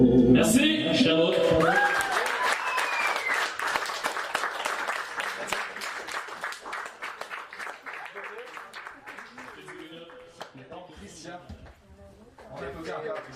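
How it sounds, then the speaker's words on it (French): A cabaret audience applauds in a dense, steady wash of clapping that holds at moderate loudness and thins slightly toward the end, with voices and cheers mixed in. "On applaudit encore, Christian."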